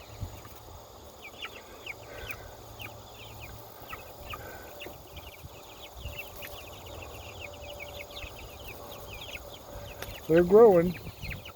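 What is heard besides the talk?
roosters clucking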